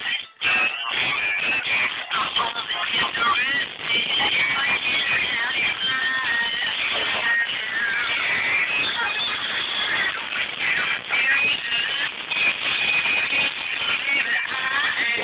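A Sciphone i86 phone speaker plays at full volume, a dense, tinny, distorted wash of sound with no bass, running continuously and loudly for about fifteen seconds.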